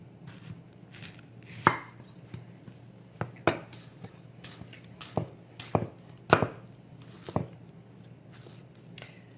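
A knife cuts through peaches on a cutting board in sharp, irregular taps and chops, about a dozen distinct close strikes spread across a quiet kitchen background.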